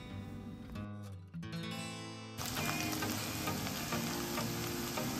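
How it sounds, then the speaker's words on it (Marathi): Onion sautéed in a pan with ginger-garlic paste: a low sizzle with clinking at first, then a sudden louder, dense crackling sizzle that holds steady to the end, close and with no talking. "कांदा छान परतवून झाला की त्यात आपल्याला आलं लसणाची पेस्ट ॲड करायची आहे आणि ती सुद्धा छान कांद्याबरोबर मिक्स करून घ्यायची आहे"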